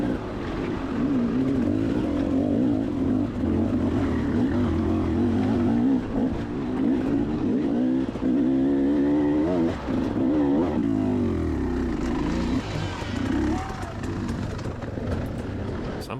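A dirt motorcycle engine revs during an off-road race at the Red Bull Tennessee Knockout, rising and falling in loud, close bursts that waver with throttle changes, with talk over the engine.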